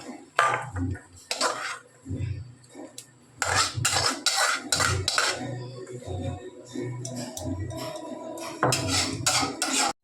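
A pan of stuffed pointed gourd cooked in milk is moved off a gas stove, with close clinks and scrapes of utensil against metal pan in bursts, separated by short pauses.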